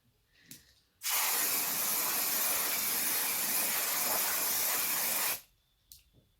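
Hair colouring spray hisses from a can in one long, loud, continuous burst of about four seconds, with brief quiet before and after.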